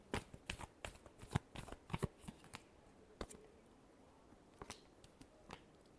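Tarot cards riffle and shuffle in quick papery bursts, dense at first and then sparser with a few separate snaps near the end, close and fairly quiet with no talking.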